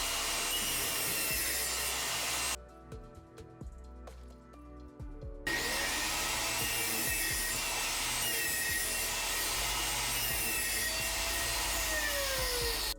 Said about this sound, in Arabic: بدات اقطع الخشب لمقاسات تقريبيه على منشار الترابيزه